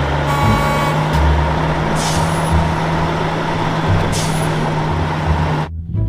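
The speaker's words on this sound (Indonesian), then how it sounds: "Di sini ada mobil derek." Tow truck idling close by: a loud steady diesel rumble with a constant low hum, some intermittent hissing bursts, and the engine noise cutting off near the end.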